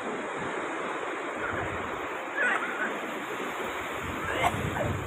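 Sea waves at Arambol beach in Goa give a steady, moderately loud wash of surf. Wind rumble hits the microphone, and small splashes rise slightly now and then.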